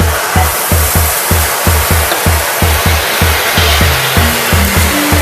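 Chopped onions fry in butter in a pan on a gas stove, a dense continuous hiss over a steady repeating low thump, loud and close, with no one speaking.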